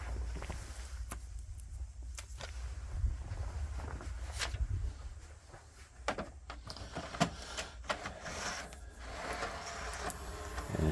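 An RCA J/K-series CED videodisc player draws a disc into its slot and loads it, giving a run of close mechanical clicks, whirring and clunks of moderate loudness with no talking.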